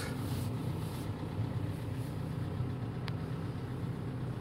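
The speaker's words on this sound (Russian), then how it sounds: "вот включилась вебасту слышу догрев идет" Webasto parking heater running in a 2016 Volkswagen Crafter van, a steady low droning hum with a faint fan whir that holds evenly throughout, close and continuous with no talk.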